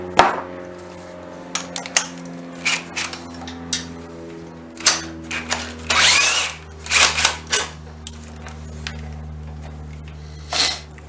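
A power tool removes a lower engine bolt on a 2019 Honda CB500X motorcycle, buzzing in short bursts between pauses, mixed with metallic clinks and rattles of tools close by.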